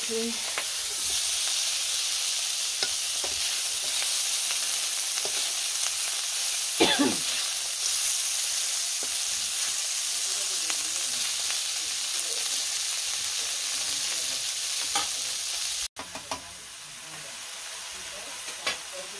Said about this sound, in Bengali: তরকারি জন্য মাছ ভাজি করলাম